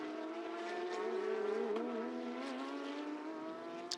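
Porsche Carrera Cup race cars battle at the Ningbo circuit, engines wailing in a sustained high-revving note that climbs and shifts, heard at a moderate distance.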